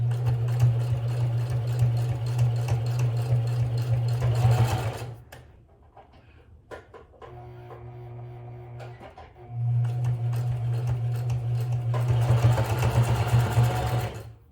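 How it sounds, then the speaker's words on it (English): A sewing machine stitching a fabric tab for a travel bag, a steady loud motor whir in two long runs with a short quiet pause between. "So let's go over to the sewing machine. Okay, now we're going to start to stitch."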